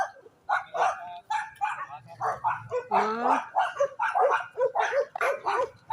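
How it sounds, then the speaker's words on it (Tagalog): A small dog barks in a quick series of sharp yips and bow-wows close by, with a brief whimpering whine in the middle, while a person talks over and between the barks. "Cute ang aso guys."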